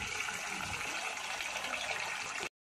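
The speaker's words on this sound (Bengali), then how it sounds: "চলো মাছটা ধুয়ে নিই আগে ভালো করে।" Fish being rinsed under a running kitchen tap: a steady, close hiss of flowing water that runs without a break, then stops abruptly.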